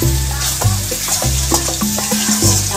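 Chicken and garlic fry in hot oil with a steady sizzle, while a utensil repeatedly scrapes and stirs the pan in regular strokes, loud and close, with no talking.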